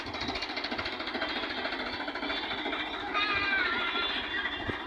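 A farm tractor engine runs steadily in a rural yard, a continuous rough mechanical drone with rattling knock that holds at an even, fairly close level throughout.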